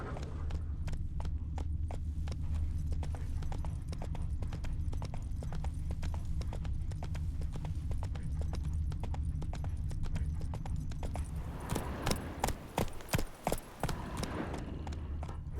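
Roach, a horse in The Witcher 3: Wild Hunt, gallops with a steady, rapid clip-clop of hooves over a continuous low hum, and a louder burst of hoof hits near the end.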